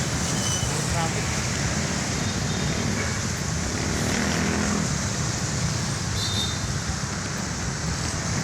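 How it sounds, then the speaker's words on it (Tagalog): Continuous wash of nighttime road traffic near a park, a dense steady rumble with occasional passing vehicles and faint voices underneath. "Traffic."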